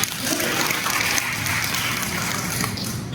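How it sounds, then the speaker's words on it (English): Applause from an audience at a Christian family talk session, a dense, steady wash of clapping at moderate volume that holds evenly throughout without pause. "let's give a warm applause of Clyde"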